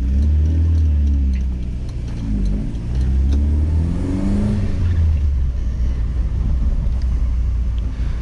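A 1979 Volkswagen Passat TS fitted with a sports exhaust revs close by, its deep rumbling engine note rising and falling in a few throttle blips before settling into a steady, loud idle drone.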